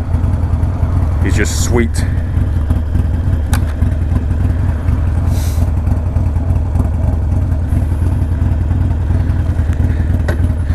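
A Harley-Davidson Sportster 48 fitted with a Two Brothers exhaust idles steadily with a deep, loud rumble that runs throughout, while a person talks over it.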